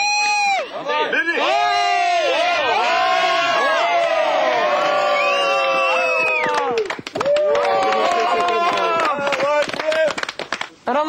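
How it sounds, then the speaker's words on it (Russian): A studio audience at a Russian reality show bursts into loud cheering and shrieks, then claps in a dense, sustained round close by, with voices rising over it. "Аплодисменты, ребята,"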